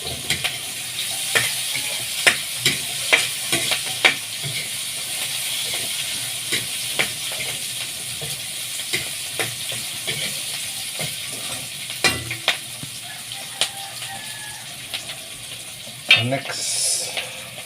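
Chili stirred and frying with onion in a pan for adobong bangus, a continuous soft sizzle broken by frequent sharp clicks and taps of a utensil, with a brief louder burst near the end.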